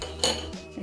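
A spoon stirs salad ingredients with lemon juice, giving one short, bright clink against the bowl and then a softer scrape, close and alone.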